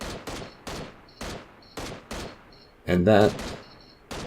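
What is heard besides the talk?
gunshots, from video game PUBG Mobile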